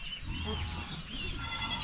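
A heavily pregnant blackhead goat bleats, with a wavering higher cry near the end over steady low farmyard background noise.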